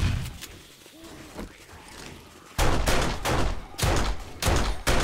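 Gunfire in the game 7 Days to Die as zombies attack defensive walls: loud, rapid bursts of shots in quick succession, heavier in the second half, with a voice talking under the firing.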